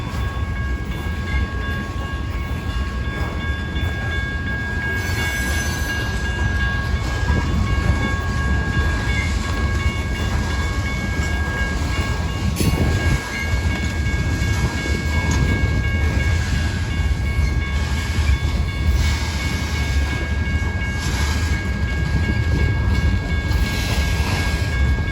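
A BNSF freight train rolls past during a train meet on the Hannibal Sub at Sublette Avenue, a steady loud rumble and rail rattle filling the whole stretch with faint horn tones.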